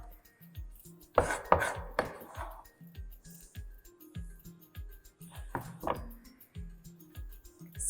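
A knife finely chopping green chillies on a board for a chana chaat recipe, with steady rapid taps and a few louder clustered strikes close up, no talking.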